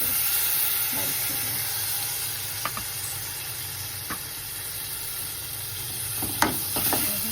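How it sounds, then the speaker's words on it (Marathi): Tomatoes go into a pan of masala in a home kitchen, sizzling steadily with a soft hiss and stirring, plus a few brief clinks of utensils against the pan toward the end. "आणि याच्यामध्ये आता टमाटा घालून देते."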